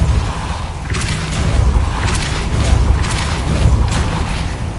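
A Depulso spell cast in the Hogwarts Legacy video game gives a series of deep booming thumps with airy whooshes, repeating roughly every second over a dense, loud rumbling game soundscape.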